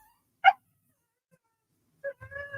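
A dog gives a short high whimper, then after a pause lets out a few more soft whining yelps close by, with silence in between.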